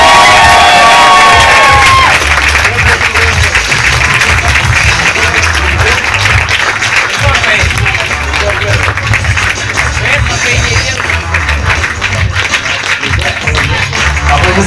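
An audience at a Mafia game championship award ceremony bursts into sustained, loud applause with cheering and shouts from the crowd, a dense wash of clapping that carries on steadily while a voice announces over it.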